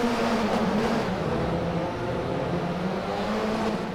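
Touring race cars at the Croft circuit rev and accelerate together off the start line, a dense, loud, continuous engine roar with a steady drone that slowly thins as the pack pulls away.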